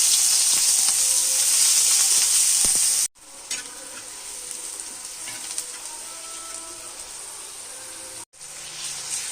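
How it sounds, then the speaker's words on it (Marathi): Onion dropped into hot oil for baingan bharta, giving a loud, bright sizzle that cuts off abruptly twice, then a softer steady frying hiss with faint stirring. "हे तेल गरम झालेलं आहे, कांदा टाकूया।"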